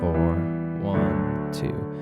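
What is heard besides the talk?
No everyday noises stand out.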